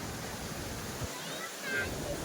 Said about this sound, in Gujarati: ઓ ભાઈ અહીં તો ધોધ પણ છે